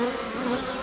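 Honeybees buzz steadily around a hive frame carrying pollen, a close, continuous droning hum with no pauses.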